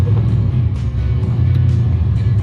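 A shop truck with almost no traction drives hard during a brake lock test, its engine a loud, close, continuous low roar and rumble lasting a couple of seconds.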